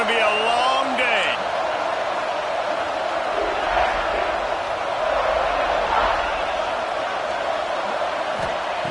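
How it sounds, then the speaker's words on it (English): A college football stadium crowd roars at full throat, a loud continuous wall of cheering that holds steady throughout, with a commentator talking over it. "This crowd, full throat, splitting the eardrums and letting them know it's going to be a long day"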